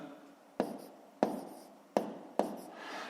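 Four crisp, close pen-on-paper taps and strokes in an even rhythm as numbers are written by hand for a fifth-grade math exercise, with no voice.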